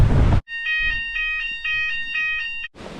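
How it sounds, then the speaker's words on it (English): A hotel fire alarm sounds at night with a loud, shrill electronic tone pulsing in a rapid, even rhythm of about seven beeps, framed by bursts of louder noise at the start and end. "then 2 AM the fire alarm went off"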